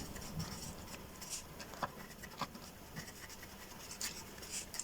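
Pen scratching faintly on paper while a math solution for a matrix determinant is written out, soft irregular strokes and taps in a quiet room, no talk.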